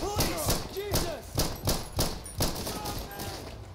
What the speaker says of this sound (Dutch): Schoten gelost, schoten gelost.